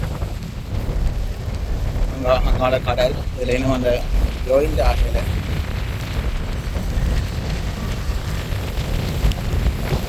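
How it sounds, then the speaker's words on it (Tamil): Strong wind blows across the sea near a large bridge, a constant low buffeting roar heavy on the microphone, while someone speaks over it for a few seconds in the middle. "நல்ல காத்தடிக்குது."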